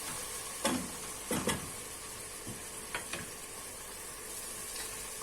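Peppers added to sautéed onions in a pan for meaty dried bean stew, frying with a low steady sizzle broken by a few sharp scraping stir strokes, close up with no talk.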